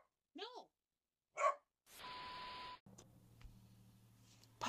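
A puppy gives two short, high yips in quiet, followed by abrupt electronic noise and a low hum.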